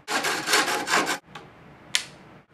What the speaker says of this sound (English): Now take your hacksaw